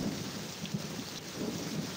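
Steady rain falls on a surface with low rumbles of thunder beneath it, a continuous, fairly quiet wash of sound with no voices.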